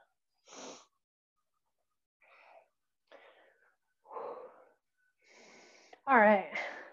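Deep breaths drawn and released in slow, separate bursts during a chest and shoulder stretching exercise, rough and wheezy, close to the mic, with a voiced sound near the end.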